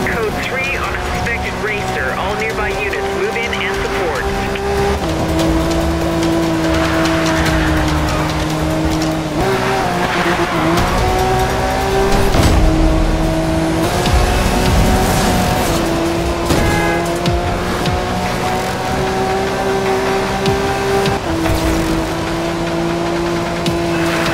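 A fully upgraded Lamborghini Veneno races in the PS4 game Need for Speed Rivals, its engine droning loud and continuous with repeated gear-shift steps in pitch, bursts of revving and tire noise, and game effects layered throughout.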